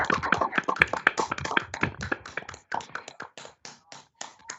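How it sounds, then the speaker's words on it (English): A small audience at a city council meeting claps, a burst of sparse individual hand claps that thins out and fades over a few seconds, close and fairly clear. "please join me in giving them a rousing round of applause"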